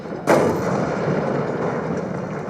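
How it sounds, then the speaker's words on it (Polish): A single sharp blast from an exploding tank ammunition load in War Thunder ground combat, a sudden loud boom followed by a steady rumbling roar that carries on without a break, with no voices. "Eksplozja amunicji"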